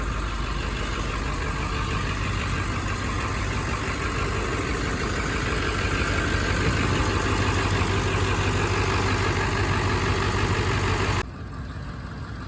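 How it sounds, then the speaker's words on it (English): A 2000 Ford F-250 with a 7.3-litre diesel engine idles steadily after a starter replacement, a loud, even rumble with clattering texture that continues without pause, dropping slightly in level near the end. "Well, the old diesel's back up running, ready to go."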